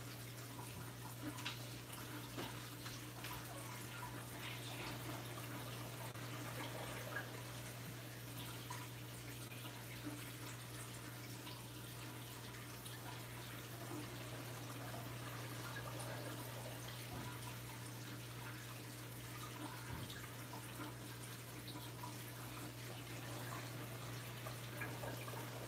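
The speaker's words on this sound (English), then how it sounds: "let me siphon this water and then I'll do a water change." Steady trickling water from a saltwater aquarium being siphoned during a water change, faint and continuous with a low steady hum underneath.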